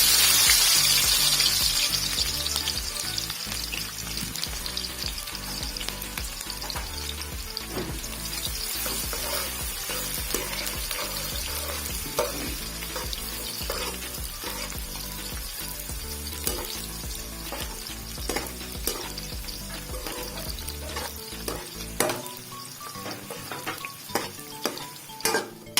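Sliced onions, about two of them, sizzle and fry steadily in hot oil for chicken biryani, a loud continuous crackle with occasional stirring clinks, heard alone throughout.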